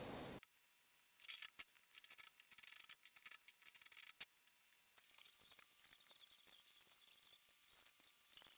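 Scissors snip through jersey fabric pieces being cut out for a puffer jacket, close and fairly quiet, in a run of short irregular cuts with brief pauses, rustling of cloth between snips.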